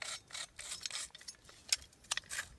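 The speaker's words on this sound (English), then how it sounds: "Turn the latch over here. Loosen it up." Latch of a SOG collapsible folding shovel being turned and loosened, a quiet close series of scraping rubs and small ratcheting clicks.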